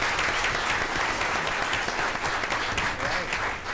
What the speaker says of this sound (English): how about another round of applause for these great 2nd graders